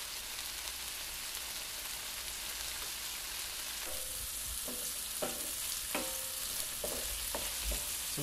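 Beef sears in a stainless steel pan with a steady, close crackling sizzle, with a few louder spits and taps of pieces shifting in the pan toward the end.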